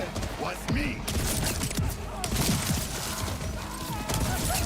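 Rapid weapon fire with dense crashing impacts and mechanical clatter in Borderlands 4, loud and nearly continuous with bursts of cracks and reload noises, mixed with game effects and occasional voice.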